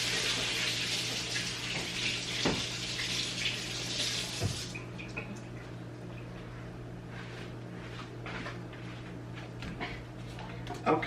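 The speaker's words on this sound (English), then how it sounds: "I need to wash these right quickly." Strawberries being washed under a running kitchen tap for sangria, a steady hiss of flowing water for the first few seconds, then quieter splashing and handling of fruit in the sink with a few light knocks.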